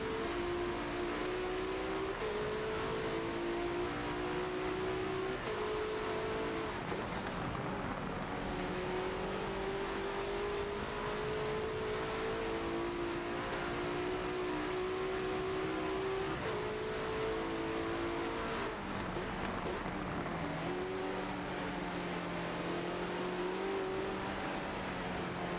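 Several race cars duel closely through the 24-hour race at Spa-Francorchamps in a racing video game, engine notes layered and rising and falling as they shift, a steady loud roar with brief tire squeal and no talk.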